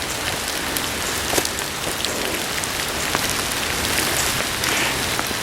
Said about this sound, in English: Now it's degraded in what is called rain.